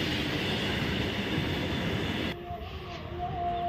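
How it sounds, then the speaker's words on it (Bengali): A long train rumbles past at close range in a dense, loud roar of wheels and cars that cuts off abruptly near the end, leaving a quieter background. No one speaks. "কত বড় ট্রেন, এই বিশাল লম্বা। দেখেছো কত বড়, যাচ্ছে যাচ্ছে যাচ্ছে এইদিকে।"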